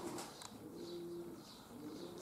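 Pigeons cooing softly at a distance, a low steady murmur of calls running through a faint, noisy outdoor background.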